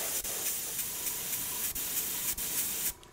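Paint is sprayed onto an Air Force 1 sneaker in a bright, steady hiss from close by, broken by four brief pauses. It cuts off shortly before the end and leaves near silence, with no one speaking.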